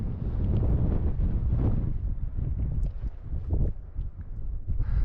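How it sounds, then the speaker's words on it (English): Strong wind on a Colorado mountain pass buffets the microphone in a continuous low rumble with gusty swells, no other sounds standing out. "it's windy up here"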